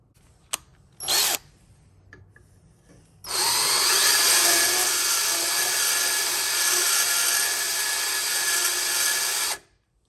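Rotary file grinding a burr off the inside facing of a Brunswick pinsetter mag clutch: two short taps, then a loud, steady high-pitched whirring grind for about six seconds before stopping.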